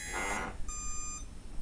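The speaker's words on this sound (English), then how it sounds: "And you heard that low beep, high beep." An Oversky 10A BLHeli electronic speed controller on a Walkera model sounds its arming tones, a steady electronic beep that steps up in pitch, heard over a hum of background noise.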